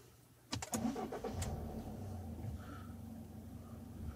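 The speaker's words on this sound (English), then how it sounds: "If we start the vehicle up" A Subaru car engine cranks with a few rapid starter clicks, catches, and settles into a steady low idle, heard close and fairly quiet.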